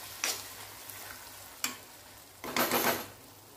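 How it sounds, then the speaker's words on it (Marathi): Thick cashew-curry gravy roasting in an iron wok until the oil separates, a low steady sizzle broken by three loud scraping bursts from a stirring spoon, the last one longer, heard up close with no talking. "आता हे छान असं भाजून घेऊया तेल सुटेपर्यंत।"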